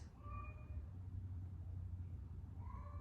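A cat meows in an upset way, two drawn-out cries at the start and end with a low rumble running underneath; no one speaks.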